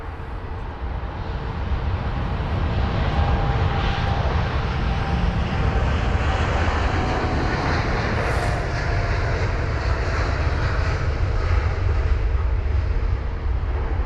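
An American Airlines Boeing 787-9 Dreamliner jet departing from a busy airport bound for Chicago, a loud continuous engine roar rising in the first seconds and then sustained, with no talking.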